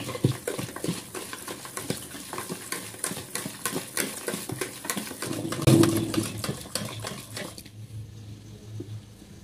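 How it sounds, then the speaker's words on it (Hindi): A cup of milk being beaten for a creamy macaroni salad sauce, a busy run of quick sloshing, clattering whisk strokes that stops abruptly near the end. "एक कप दूध इसको हम बीट करेंगे"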